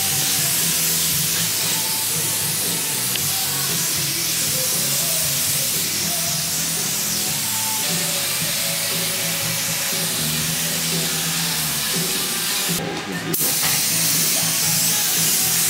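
Continuous hiss of a spray gun applying Cerakote coating to a 1961 car, running steadily for the whole stretch, loud and close, with faint background noise and a brief burst near the end.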